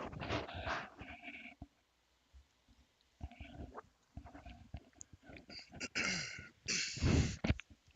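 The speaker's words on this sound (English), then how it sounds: "Sorry, I can't clear my throat." Someone clears their throat several times in rough, gravelly bursts, separated by short pauses, close to the microphone.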